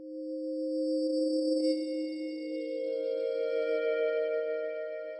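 Atmospheric pad from a Hydra synthesizer, a soft, steady sustained tone with layered high harmonics slowly shifting and fading in, quiet and alone with no voices.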